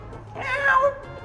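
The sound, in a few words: person imitating a cat meow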